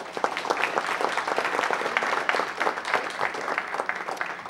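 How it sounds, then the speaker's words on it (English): A city council meeting audience gives students a round of applause, a dense, even clapping from many hands that holds steady for several seconds with no talking over it. "Everyone, please give them a round of applause."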